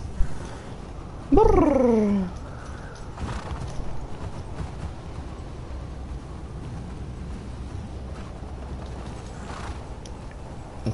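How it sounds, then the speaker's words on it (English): In the video game The Last of Us, a horse whinnies once, loud and descending, over a steady background of hoofbeats and low rumble that continues for several seconds. "Horses."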